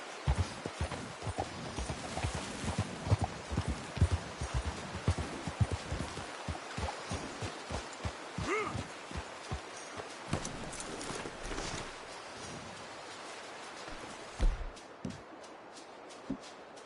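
Horse hooves clip-clopping in a steady trotting rhythm in Red Dead Redemption 2, close and clear over soft ambient outdoor sound, slowing toward the end.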